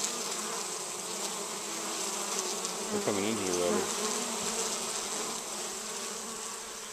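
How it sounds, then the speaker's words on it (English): Honey bees in a busy apiary box on a warm October day make a steady, dense buzz close by, while someone speaks briefly over the drone. "So the bees are definitely busy."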